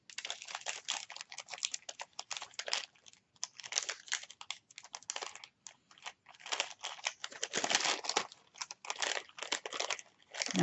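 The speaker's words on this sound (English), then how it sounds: "so you don't have to keep hearing the cellophane crinkling" Cellophane wrapping crinkles and crackles in irregular bursts at close range while holiday banner pieces are handled for a Cricut Christmas craft, with no one speaking.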